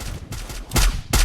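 Video game gunfire crackles in a few quick bursts, with two heavier shots landing loud near the end of a short stretch of shooting.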